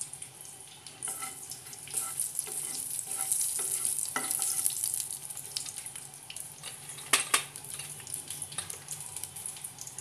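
Oil with black cumin seeds and two dried chilies fries in a pan for a doi begun (yogurt eggplant) curry, giving a close, crackling sizzle with stirring clatter and a few sharp knocks, no voices.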